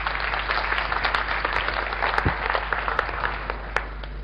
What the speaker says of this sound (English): give a big warm applause to Dale Pearson